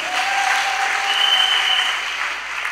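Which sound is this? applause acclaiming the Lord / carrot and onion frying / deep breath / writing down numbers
applause acclaiming the Lord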